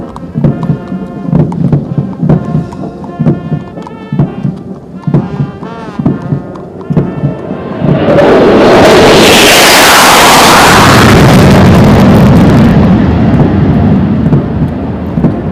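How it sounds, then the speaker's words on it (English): Three Sukhoi Su-30MKI jets flying over a military passing-out parade at the National Defence Academy build into a loud, broad jet roar that swells and holds for several seconds, following a stretch of band music. "you will see 3 Sukhoi 30 MKI aircraft approaching the quarter deck, bidding farewell to the passing out course."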